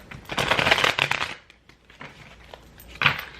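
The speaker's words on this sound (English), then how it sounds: "I'm shuffling this deck a little bit different because this is one of the decks that I read in reverse." A tarot card deck being shuffled by hand, with a burst of riffling and rustling cards in the first second, then quieter handling and a second short shuffle near the end, close and clear with no talk.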